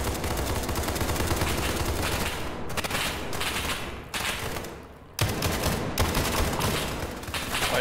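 Dense, continuous gunfire in the shooter game SCP 5K roars loudly and close for several seconds, with brief drops between bursts and no talk.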